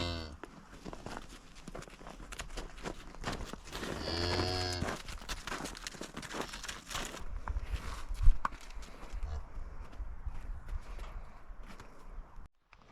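A cow near a farm gate gives one loud, close moo midway through, set among shuffling hooves, footsteps and light rustling, with no talk.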